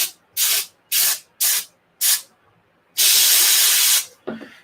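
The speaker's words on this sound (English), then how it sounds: "Put my auto back on there for the airbrush, the compressor." Loud, close bursts of an airbrush hiss in a rhythmic pattern of five short sprays, then one longer spray and a brief final puff, while painting a small miniature.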